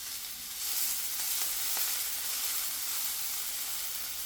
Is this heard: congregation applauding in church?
no